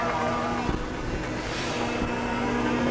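A Volvo ECR25 Electric compact excavator, its combustion engine replaced by a lithium-ion battery pack, runs with a steady, even mechanical hum and faint whine, close by and without pauses.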